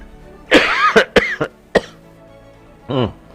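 A loud, close cough in several sharp bursts, followed by a short throat-clearing sound after a brief pause.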